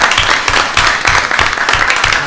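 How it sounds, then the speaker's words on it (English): Audience applause at a county public schools board meeting, steady clapping filling the room for a couple of seconds with faint low thumps underneath. "let's give her a huge round of applause"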